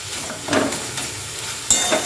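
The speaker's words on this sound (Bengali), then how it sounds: "আর একটু ভাজা ভাজা হলেই নামিয়ে দেবো আমার পালং শাক ভাজা।" Spinach stir-fries in a pan, a steady close sizzle broken by scraping stirs and a couple of sharp utensil clinks, with no voices.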